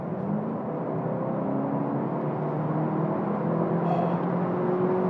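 A Volkswagen Golf GTE hybrid cruising on a motorway, giving a steady, continuous engine and road hum inside the cabin with a faint whirring tone and no change in level throughout.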